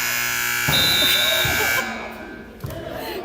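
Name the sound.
game buzzer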